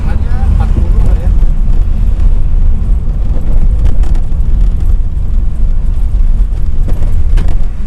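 Inside a used ex-taxi Mercedes V-Class van taking a corner at about 40 km/h, a loud, steady low road and engine rumble fills the cabin, with a voice talking over it.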